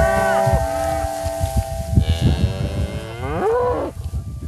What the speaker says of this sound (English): The cattle readily move in to a new paddock because they always know they're going to get a fresh bite of grass